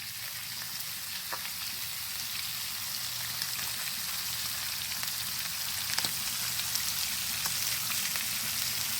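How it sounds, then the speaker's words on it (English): Two and a half pounds of thick-cut bacon sizzle and crackle on a Blackstone flat top griddle, a steady close hiss dotted with sharp pops, with no voices. "Two and a half pounds of thick cut bacon that was on sale at Kroger, all griddling on the Blackstone flat top."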